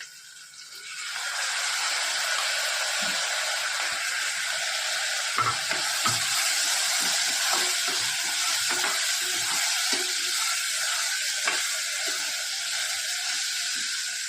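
Mixed dal sizzling in a hot pan while being stirred, heard as a constant loud hiss with scattered scraping spoon taps throughout and no speech.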